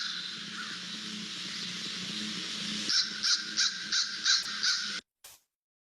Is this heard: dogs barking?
no